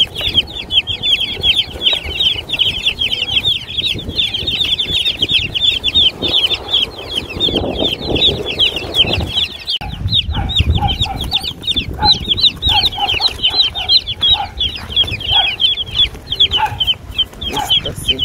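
Flock of chickens, including chicks, clucking and peeping continuously and loudly nearby in a busy overlapping chorus, with occasional rustling and movement underneath.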